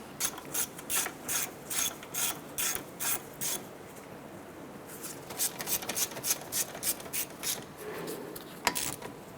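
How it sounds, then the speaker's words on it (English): A hand ratchet tightening caliper slide pin bolts on a 2006-2013 Chevrolet Impala during a CV axle job, rapid bursts of close clicking in two runs separated by a short pause. "Get those bolts started. Let's go ahead and get these snugged down."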